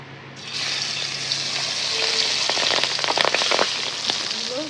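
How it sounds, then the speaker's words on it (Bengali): Pabda fish dropped one by one into hot oil in a wok, the sizzle swelling from quiet to a loud, steady hiss with crackling pops, close up and without talk. "তেলটা গরম হয়ে গেছে, এখন আমি একে একে মাছটা দিয়ে দেবো।"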